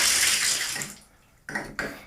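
Hot water from a shower runs in a steady hiss, then cuts off briefly and comes back in two short bursts as the flow is tested after clearing a clogged, mineral-laden showerhead.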